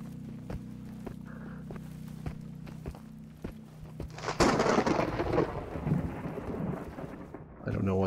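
A thunderstorm in the video game Into the Radius: a steady low hum with scattered ticks and taps gives way to a loud rolling thunder crash over heavy rain that lingers to the end.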